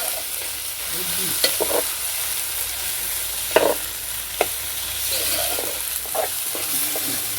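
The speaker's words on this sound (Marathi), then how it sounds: "आलं आणि लसूण त्यानंतर कांदा चांगला मिश्रित म्हणजे एकजीव करून घेतलेला आहे" Onion, ginger and garlic stirred in a frying pan on a wood-fired stove, a steady close sizzle under occasional scraping stirs and soft knocks of the spoon.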